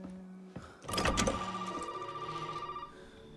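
A telephone rings inside a safe room in Resident Evil 7, with a loud, continuous electronic ring that starts after a soft intro and holds steady with a fluttering pulse until it stops near the end.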